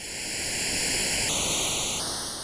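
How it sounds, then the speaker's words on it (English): Steady white noise hiss run through Haas-effect comb filtering, its notched hollow tone shifting in pitch twice as the delay time changes, loud and constant with no voices. "Here's the same thing applied to a white noise signal."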